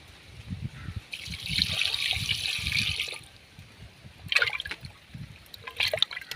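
Water trickles and pours into thick fermented pearl millet porridge (kambu koozh) being thinned, in bursts of liquid splashing with quiet pauses and faint handling noises between them, close by.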